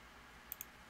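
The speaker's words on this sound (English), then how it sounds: "So I'm gonna click on this." Two quick, faint mouse clicks on a Windows 10 computer, spaced about a tenth of a second apart, over a quiet background hum.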